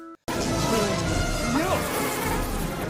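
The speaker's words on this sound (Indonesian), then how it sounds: "kapal selam yang kedatangan beberapa ekor lebah yang memberi kabar tentang keberadaan Frankie dan kawan-kawan." Bees buzz continuously and close up in a scene from the 2021 film Jungle Cruise, with the drone wavering in pitch after a brief silent gap at the start.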